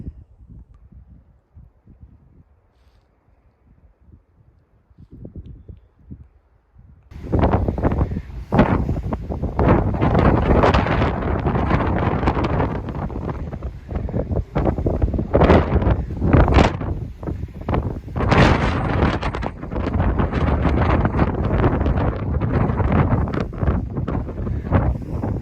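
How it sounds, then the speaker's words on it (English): Strong wind buffets the microphone in loud, rumbling gusts on a hiking trail after a quieter start, roaring steadily with sharp blasts throughout. "It's super windy"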